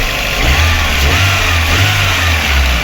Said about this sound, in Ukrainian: Двигунчик працює в принципі чудово